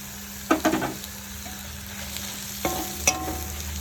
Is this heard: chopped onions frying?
yes